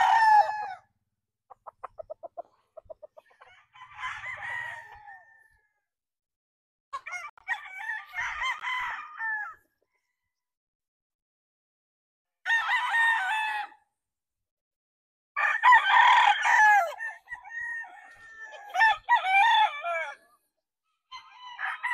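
Roosters crow in repeated bursts among cockerels and pullets, including White Kelso and Boston Roundhead birds, with several close, loud cock-a-doodle-doo calls separated by quiet gaps and occasional clucks.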